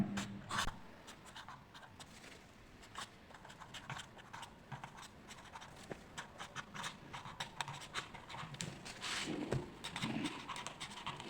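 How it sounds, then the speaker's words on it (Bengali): Pen or pencil writing on paper while working a seventh-grade maths factorisation problem, with a steady run of small scratchy strokes and taps close by and no talking. "আমরা একটু লিখে নিই।"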